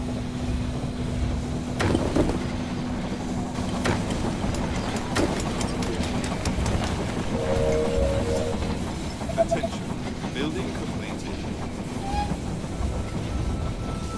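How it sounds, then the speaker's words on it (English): A train rumbles and clanks as it pulls into a station in the video game They Are Billions, with a steady engine hum, sharp metallic clicks and a brief chime, under occasional voices. "The train has arrived at the station."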